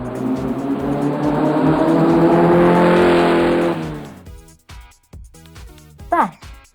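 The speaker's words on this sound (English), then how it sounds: "Car." A car engine roars loudly and accelerates for about four seconds with a hint of tire squeal, then cuts out. A short spoken voice follows.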